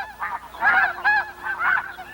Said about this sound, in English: These are rusty geese.